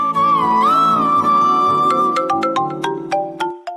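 A phone ringtone plays in a home, a loud, bright melodic tune repeating its notes without interruption for several seconds until it cuts off.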